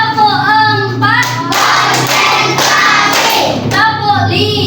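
Children in an elementary school classroom play a counted clapping game, bursts of group hand clapping alternating with chanted voices in a lively, rhythmic pattern.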